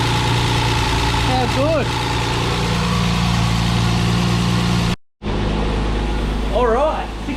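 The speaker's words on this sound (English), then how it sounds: "that is cold start. The idle will drop down a little bit." A Nissan Patrol engine idles steadily just after a cold start, a constant close mechanical hum with a brief dropout midway, while people talk over it.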